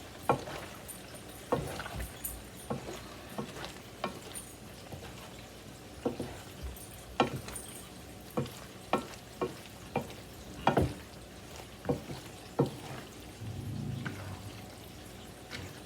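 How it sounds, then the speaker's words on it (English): Mexican-style four-cheese blend stirred into a creamy tomato, onion and garlic fajita pasta bake, giving a steady run of close, soft scraping and squelching strokes at a regular rhythm with no talk. "Give it a nice stir"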